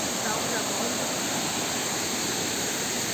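Mag-aso Falls thunders in a dense, continuous roar of falling water, close and loud, with someone talking over it throughout.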